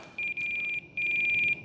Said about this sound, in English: This is an alarm that's been annoying to us for a while.